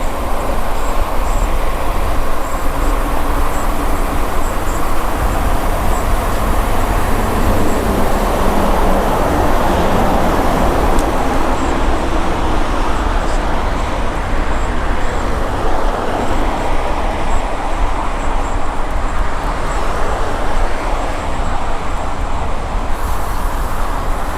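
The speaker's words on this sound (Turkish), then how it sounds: "Şimdi trafiğe katılıyorum ana yola." Steady, loud road traffic rumbles continuously while cycling along a main road, with passing vehicles and wind noise and no talking.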